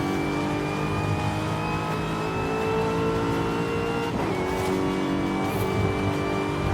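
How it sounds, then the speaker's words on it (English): A Corvette Z06 in the video game Forza Horizon 5 drives under steady engine drone with a high supercharger whine and straight-cut gear whir, one gear change partway through, the tone holding steady and close. "Supercharger whine and straight cut gears."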